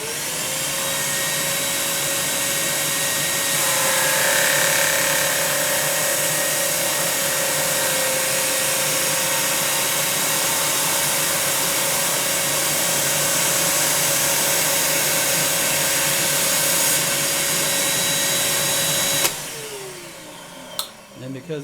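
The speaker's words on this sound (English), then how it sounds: "You just push against that sanding drum." Jim Byrnes Model Machine 6-inch drum sander with manual feed running and sanding wood, a continuous loud whirring motor hum with a steady tonal whine and broadband abrasive hiss, close up, before winding down near the end.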